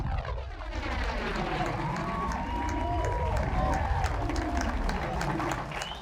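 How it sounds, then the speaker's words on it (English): An audience applauds and cheers for the New York City Breakers at a hip-hop honors event in a theatre, a steady crowd roar of clapping mixed with shouts and babble that swells slightly toward the middle. "can I give a big round of applause for the one and only New York City Breakers, Powerful Pecs."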